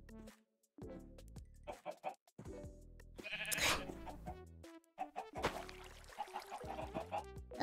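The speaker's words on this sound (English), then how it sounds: "we just have this random sheep" Bleats from a sheep in the Minecraft video game come through in short bursts, mixed with other blocky farm-animal sounds and game effects, with a voice talking briefly between them.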